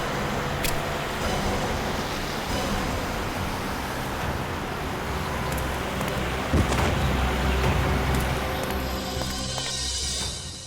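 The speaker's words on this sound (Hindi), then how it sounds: "गाड़ी की आवाज।" A car engine sound effect from a CID television crime drama plays as a steady, moderately loud broadband rumble like passing road traffic, continuous throughout with a brief low thump near the middle.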